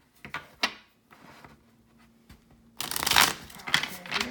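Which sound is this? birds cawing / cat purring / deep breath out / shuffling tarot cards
shuffling tarot cards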